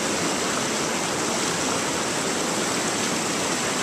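Walker's Falls on a Newfoundland salmon river roars continuously, a loud, close, unbroken wash of falling water with no pauses or other sounds.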